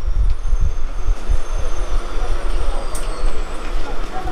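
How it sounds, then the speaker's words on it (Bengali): An Arambagh local train pulls out of Kamarkundu station, its wheels thudding and rumbling in uneven low bursts with carriage clatter, heard close from on board. "কামারকুণ্ডু থেকে আমাদের ট্রেন ছাড়লো।"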